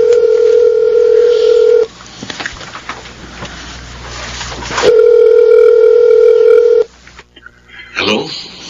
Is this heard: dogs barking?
no